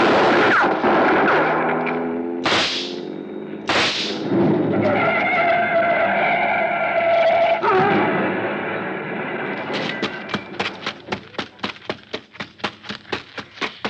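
A radio drama shootout ends in a rapid volley of sharp, loud gunshots, close and evenly spaced, after a dense stretch of car engine and tire noise with two sudden whooshing bursts, no voices heard.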